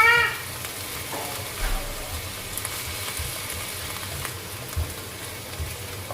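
Spinach stir-frying in a pan with salt and seasoning, a steady close sizzle with soft scraping stirs throughout, no talking.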